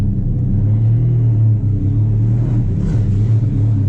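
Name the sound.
2000 Lamborghini Diablo GT engine while driving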